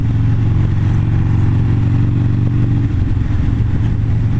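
Motorcycles out on the road on a ride, a loud steady engine drone with rumbling low exhaust note close by, easing slightly near the end, with no talking.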